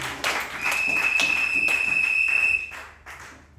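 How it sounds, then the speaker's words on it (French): A church congregation at a Sunday service claps together in a steady rhythmic beat, fairly loud and close, with a sustained high whistle-like tone held through most of the applause before it fades. "Applaudissez le Seigneur Jésus."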